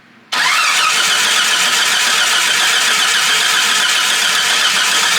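An engine spinning over with the starter for a compression test, an abrupt start into a loud, continuous, steady churning drone that holds unchanged to the end, no voices.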